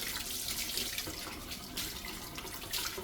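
Water runs and splashes steadily through aquarium filter pads held under a flow, a continuous close hiss with bubbling, no voices.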